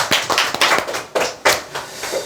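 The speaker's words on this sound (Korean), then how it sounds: "네, 박수 한번 치시죠." An audience claps hands in a short burst of sharp, irregular claps, fairly close and loud, with no talk over it.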